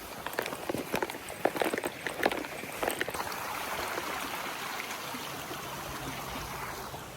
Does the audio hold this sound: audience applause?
no